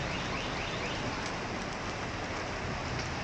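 A fierce hailstorm in Puno, with stones falling as big as rocks, makes a dense, continuous, loud patter that hammers down without a break.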